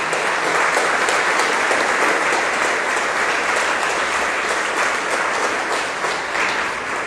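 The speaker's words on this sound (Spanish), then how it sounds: "Vamos a darle un fuerte aplauso a Jesucristo." Sustained, loud applause from a large crowd at a religious gathering fills the whole stretch, a dense even roar of clapping that fades slightly near the end.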